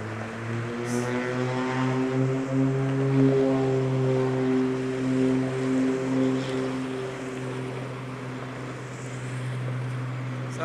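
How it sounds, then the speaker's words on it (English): A propeller aircraft taking off near an outdoor jet museum gives a steady droning hum with a pulsing tone that slowly fades as it climbs away. "Sounds like a propeller."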